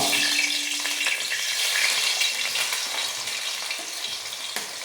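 Onion, curry leaves and bitter gourd frying in a pan for a bitter gourd curry, a steady bright sizzle with light crackle that eases slightly over a few seconds, with no speech.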